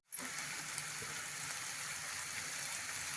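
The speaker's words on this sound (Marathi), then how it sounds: "ह्याच हळदीच्या पाण्यामध्ये आपण छान परतून घ्यायला आहोत." Aviyal vegetables sauté in turmeric water in a pan, starting abruptly and then holding a faint, steady sizzle and bubbling hiss throughout, with no talk.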